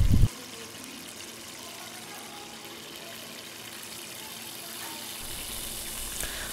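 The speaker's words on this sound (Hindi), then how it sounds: "और थोड़ा सा पानी ऐड करेंगे।" Water poured into a cooking pan that already holds a little oil, a brief loud splash at the start followed by a low, steady liquid hiss and bubbling that continues quietly to the end.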